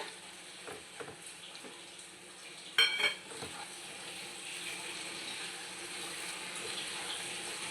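Prawns stirred into a pot of biryani masala with coriander, frying with a soft, steady sizzle, a brief clatter of the spoon or pan near the middle, and faint scraping throughout.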